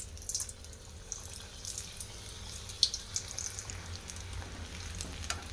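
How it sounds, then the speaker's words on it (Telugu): Potato rolls fry in hot oil, a soft continuous sizzle with frequent sharp crackles and pops, heard close and alone without talking. "గోల్డెన్ బ్రౌన్ వచ్చే వరకు వేయించుకోవాలి"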